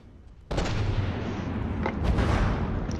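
Heavy 400mm HESH naval guns firing in the game From the Depths: a sudden loud boom cuts in, followed by rolling, rumbling artillery blasts and a second sharp report, all close and dense with no speech.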